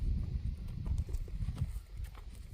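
Horse hooves stepping on the ground as the animal crosses its hind legs while being handled, producing irregular muffled thuds close by with no talking.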